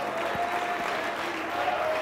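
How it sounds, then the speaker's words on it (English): A church congregation claps along during a service, with a steady wash of many hands clapping and a faint sustained tone running underneath. "Oh, clap your hands unto the Lord today."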